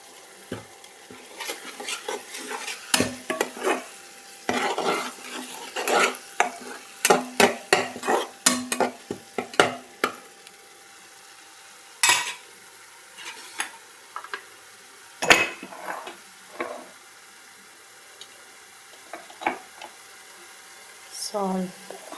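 Turmeric and ginger-garlic paste fry in a pan as a spoon stirs them: irregular scraping clinks against the pan over a soft sizzle, in busy bursts with quiet gaps between.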